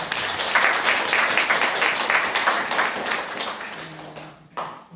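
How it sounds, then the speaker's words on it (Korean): Warm clapping from a church congregation during a 60th-anniversary thanksgiving service, steady for about four seconds, then cutting off abruptly, followed by a brief sound and quiet. "우리 축복의 박수"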